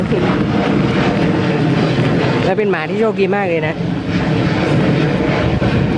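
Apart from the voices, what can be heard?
airplane flying overhead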